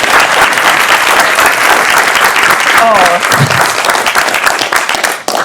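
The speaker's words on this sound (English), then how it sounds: "Big round of applause, please." Applause from an audience at an inaugural university lecture, dense sustained clapping from a large crowd, loud and close, with a brief voice partway through before the clapping thins out and stops near the end.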